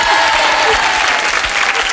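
Studio audience of a French television talk show applauding steadily, a dense, even wash of clapping throughout with a faint tonal hum beneath.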